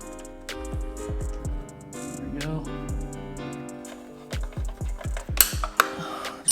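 A 10 mm wrench works on the shift linkage rod of a 2017 Yamaha R6 during removal, producing close metallic ratchet clicks and clinks in uneven bursts, busier toward the end.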